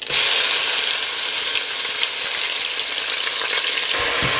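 Whole spices and onions hit hot oil in a pot for chana daal, a loud, close, continuous sizzle that stays steady with a couple of stirring knocks near the end and no voices.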